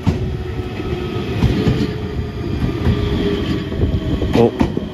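A local train runs on the JR Yosan Line in Ehime, near Matsuyama, with a loud, continuous rumble of wheels on rails and a few sharp metallic clicks toward the end, heard without speech.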